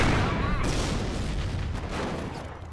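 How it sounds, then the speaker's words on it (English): A German Panzer tank fires its main gun in the World War II strategy game Company of Heroes, heavy booming cannon blasts over rumbling battlefield noise, with a voice talking. "Notice the Panzer's slow rate of fire. You can increase its rate of fire by using its rapid fire ability."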